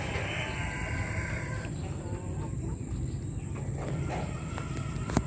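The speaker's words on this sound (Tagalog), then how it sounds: "ating mga lilipat na manok natin mga kabagang" Chickens being moved into new nests on a farm, with faint clucking and soft fowl calls over a steady low background hum, quiet and somewhat distant.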